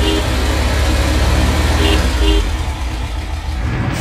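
Engine of a Volkswagen Beetle (Fusca) being driven near the Grande Hotel in Araxá, a steady low rumble with road noise inside the car, loud and close.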